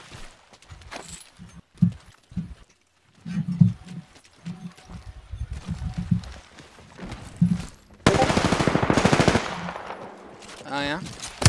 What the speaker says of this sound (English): Where did that gunshot come from?